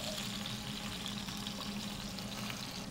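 Pieces deep frying in hot oil in a restaurant fryer, a dense continuous bubbling hiss close up and steady throughout, with no talking.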